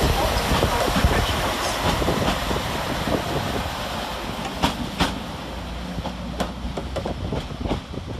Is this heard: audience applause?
no